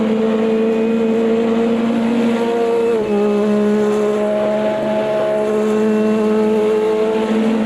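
GT1 race cars screaming down a straight at Le Mans in the Automobilista 2 video game, a loud, steady high-revving engine drone with a brief gear-shift dip partway through.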